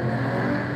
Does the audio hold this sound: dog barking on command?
no